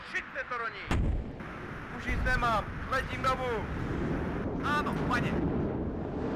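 Mortar fire in the WARNO war game: dull, distant-sounding booms and thuds under someone talking, with the impacts landing irregularly across the clip.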